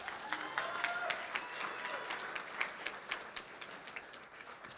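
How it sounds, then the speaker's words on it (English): Wedding guests applaud at a reception during toasts, a loose, uneven clatter of individual claps with distinct sharp hits, moderately close, thinning toward the end. "Give her a round of applause."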